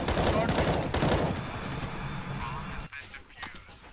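Rapid gunshots in a round of GTA 5 or CS:GO, several quick bursts up front that thin out and fade after a few seconds, with faint chatter underneath.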